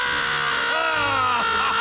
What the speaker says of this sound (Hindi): जैसे इंसानों की तरह चीखना।